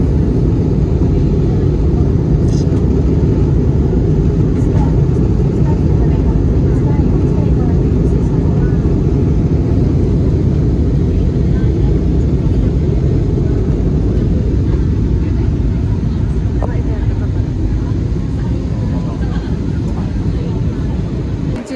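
Constant loud low roar of an airplane cabin in flight, a steady engine drone that never lets up.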